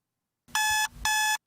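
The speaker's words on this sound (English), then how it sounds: "this alarm keeps going off" An electronic alarm clock beeping: two loud, sustained buzzing tones with a short gap between them, close and clear.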